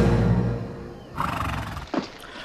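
A horse neighs loudly and close by, followed by a short snort, with rumbling background sound.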